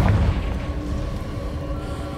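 A Confringo fire-blast spell detonates in Hogwarts Legacy, a deep booming burst at the start that rolls into a rumbling, crackling low roar lasting throughout, fairly loud and with no talk over it.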